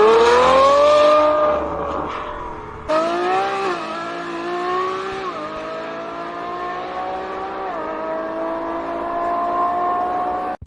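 A Ferrari F12 Berlinetta's V12 exhaust wails as the car accelerates hard, its pitch climbing through several quick gear changes in a loud, sustained pull.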